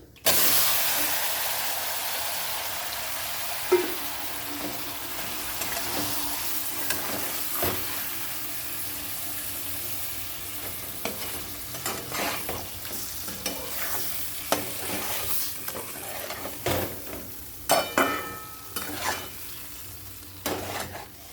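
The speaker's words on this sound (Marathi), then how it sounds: "तर आपण हा काही हलवून घेऊ आणि त्याच्यात टाकून देऊ हे मासे" Fish pieces fry in a pan with red chilli powder, a continuous sizzling hiss with frequent scraping stir strokes and clattering bursts growing busier toward the end.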